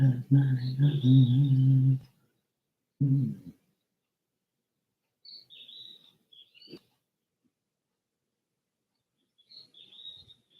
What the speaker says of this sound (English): these damn birds want to come around here and start croaking